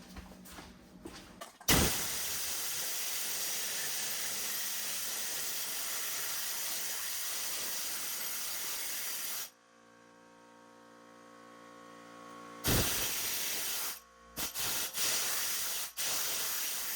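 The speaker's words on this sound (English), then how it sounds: "Now, the compressor is gonna kick in, so it's gonna become noisy." An air compressor in a car restoration workshop, where a 1966 Triumph GT6 is being worked on, gives a loud, steady hiss-roar for about eight seconds, then stops. A few short, sharp bursts of air follow.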